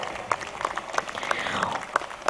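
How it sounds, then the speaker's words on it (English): Applause from a graduation ceremony audience after a college choir performance, a short burst of clapping with a few sharp individual claps standing out, fairly close and steady. "Could we please have another round of applause for the students of the Delhi College Choir?"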